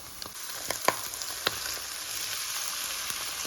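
Heart, kidney and liver sizzle and fry in a pot for a liver kavurma, a steady quiet crackle broken by a few sharper pops and spits, with no voices.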